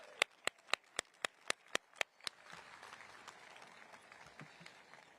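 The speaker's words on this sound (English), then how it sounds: "Please help me and give them a round of applause for all of their hard work." Audience applause at a high school graduation ceremony: about nine sharp, evenly spaced claps, then a softer, scattered wash of crowd clapping and murmur at a moderate distance.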